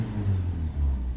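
Four-cylinder N42 engine of a BMW E46 316 idling after starting, a low steady rumble with a slight rise and fall, close and alone.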